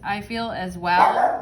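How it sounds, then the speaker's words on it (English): A dog barks in short yips close by, mixed under a woman's speech, a quick pair of sharp bursts in a brief moment. "Whew, that's my dog."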